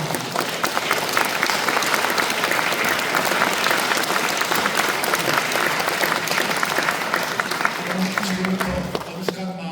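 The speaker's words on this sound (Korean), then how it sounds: "이장호 감독에게 박수 한번 보내주시면 고맙겠습니다." A church congregation gathered for a presidential birthday anniversary service at Jeongdong Church applauds director Lee Jang-ho, a sustained, full crowd clapping that stays loud and even, with a brief low voice near the end.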